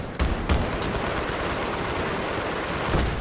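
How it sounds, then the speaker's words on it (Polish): Sustained gunfire in the video game Battlefield 3 on the Strike at Karkand map, loud continuous automatic fire with sharp cracks near the start and close to the end, heard alone. "Kurwa mać, strzelają do mnie!"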